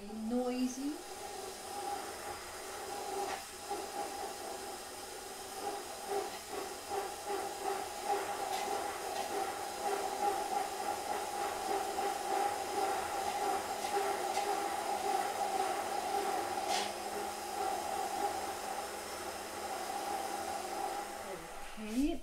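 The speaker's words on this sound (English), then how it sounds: "Now I need to blend it. It's a little bit warm. It will be noisy." Electric blender grinding a warm pumpkin spice mix, rising into a steady whirring roar that runs continuously for about twenty seconds before winding down, moderately loud with no talking.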